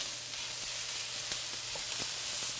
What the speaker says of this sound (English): we're ready to add our peas and our spinach. And we're just going to stir that in.